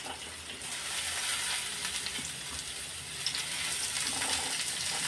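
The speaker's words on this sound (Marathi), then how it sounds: "ते टाकून थोडे परतून घ्यायचे तेलावरती।" Thinly sliced medium onions frying in about half a spoon of oil in a kadhai, a steady broad sizzle held close and even throughout, with no voices.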